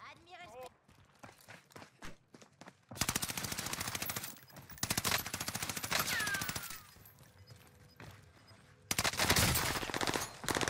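Pistol fire in Call of Duty: Warzone rattles out in fast, loud bursts of repeated shots, broken by brief pauses and footstep-like taps, with a voice talking early on.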